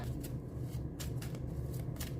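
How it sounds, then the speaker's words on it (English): A deck of playing cards is shuffled close by in a few quick riffling bursts, each a short crisp flutter of cards, with no talking over them. "I don't know why I'm shuffling again"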